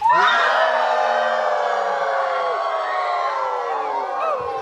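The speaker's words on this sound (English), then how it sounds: "we're going to say, "Hey bear!" And we're going to start clapping our hands" A group of people at a provincial park campground shouts together to warn off bears, a loud, drawn-out chorus of voices that starts sharply and fades gradually, with any hand clapping hard to pick out.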